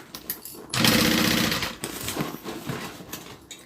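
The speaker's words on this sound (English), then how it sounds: "I'm just going to stitch, turn, until I get back to the beginning." A sewing machine stitches a zippered fabric bag, with a loud steady whirring burst of stitching, then quieter irregular clicks and handling noises as the fabric is turned.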